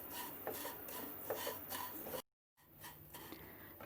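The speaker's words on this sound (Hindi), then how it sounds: "और चमचा मुसलसल हिलाएंगे" A spoon stirs vermicelli frying in ghee over a very low flame, giving a steady close scraping and rasping that is briefly cut by a moment of silence before it carries on.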